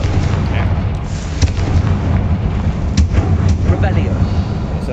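A fiery Confringo spell blast in Hogwarts Legacy gives a booming burst over a dense rumbling bed of game ambience, with a few sharper cracks standing out and voices in the mix.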